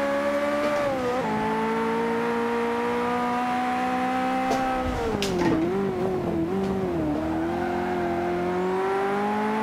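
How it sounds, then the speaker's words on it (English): A Ferrari F40's twin-turbocharged engine howls steadily as it accelerates, its pitch climbing then dipping through gear changes, loud and continuous. "Sounds lovely too. Get those turbos spooling up."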